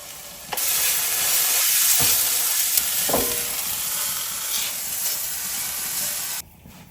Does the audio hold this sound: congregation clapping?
no